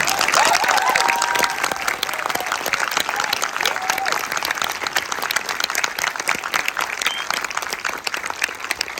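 Sustained audience applause fills the room at a political event, dense and steady clapping with a few scattered voices in the crowd, loud and continuous throughout.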